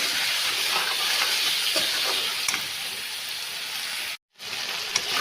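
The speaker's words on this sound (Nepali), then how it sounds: "मसलालाई पनि मजाले तेल छोडिन्जेल भुट्नुपर्छ" Ground spice masala fries in hot oil for a pak choi chicken saag curry, giving a loud, even sizzling hiss that holds steady and cuts out briefly near the end.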